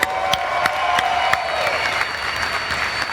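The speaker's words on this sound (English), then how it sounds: "Round of applause" Steady applause with some cheering from a large crowd at a Dodge Challenger SRT Demon reveal event, honoring Vin Diesel, dense and continuous throughout with a few sharper claps standing out.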